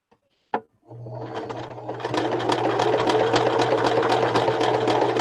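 Sewing machine back stitching through a fabric clutch bag: after a sharp click it starts up and runs steadily with a constant low hum and rapid needle ticking, close and fairly loud, with no talk.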